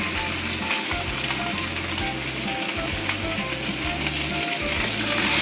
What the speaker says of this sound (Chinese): 煎鱼喽！